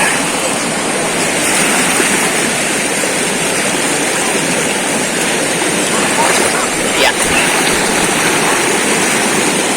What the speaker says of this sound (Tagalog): Ito yung tinatawid namin na ilog.